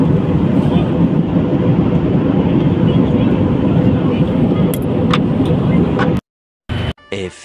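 Loud, steady broadband roar of an airliner cabin during descent to land on a flight to Goa, filling the clip for about six seconds before cutting off abruptly, followed by brief bursts of sound.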